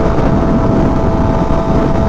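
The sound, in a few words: Honda Fireblade motorcycle engine with new exhaust and tune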